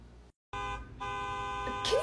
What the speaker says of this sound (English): Some lady keeps honking out front and screaming at everyone that walks by.